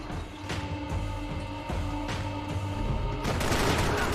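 Gunfire rings out in a video game, with several loud, sharp shots and bursts spread across a few seconds, close and echoing over a busy background.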